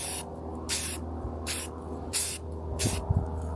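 Aerosol spray paint goes onto a motorcycle windscreen for a 2024 Kawasaki ZX6 stunt build: four short, evenly spaced hissing bursts, close and fairly loud, with quiet pauses between.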